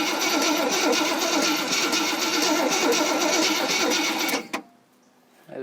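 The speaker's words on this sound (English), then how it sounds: "Let's just crank her over for a second, see how she sounds." A scrapped Jeep Cherokee's 360 V8 cranks over slowly on the starter, a loud, steady, labored whirring drone that runs for about four seconds, then cuts off abruptly into near silence.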